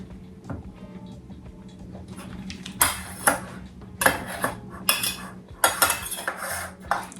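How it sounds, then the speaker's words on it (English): Knife cutting butter into pats, heard as a series of sharp clacks of the blade against a board or dish, a scrape and tap roughly every half second, loud and close after a quieter start over a steady low hum. "I like to go ahead and cut my butter up into pats."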